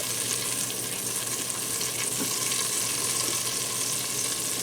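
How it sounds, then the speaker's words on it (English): Butter and olive oil sizzle in the hot inner pot of an Instant Pot, a steady, close, continuous crackling hiss that holds at an even level throughout with no speech. "now I'm going to go ahead and spread my butter around in there with the olive oil"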